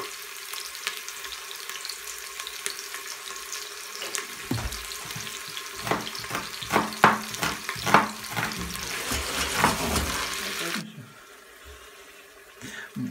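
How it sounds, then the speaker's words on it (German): Onions frying in a cooking pot for Afghan-style rice with meat give off a steady sizzle that grows denser and louder midway, with a few clinks and stirring knocks, then drops away near the end; no talking. "So, als nächstes packt ihr eure Zwiebeln in den Topf und lässt das anbraten."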